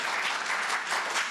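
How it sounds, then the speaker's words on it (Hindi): Enthusiastic applause from a poetry evening audience for a poet after her recital, a dense, steady burst of many hands clapping at once. "एक बार जोरदार तालियां हमारी संगीता जी के लिए"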